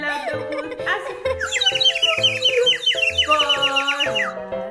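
In a Spanish children's song about animals on a bus, a singing voice imitates a bird with a run of bright, rapid chirps over a bouncy instrumental backing, loud and close.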